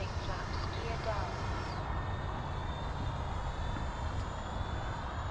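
An FMS F-86 Sabre 80mm EDF RC jet on landing approach, its ducted fan giving a constant loud broadband whine and rush that holds steady throughout with a slight pitch shift.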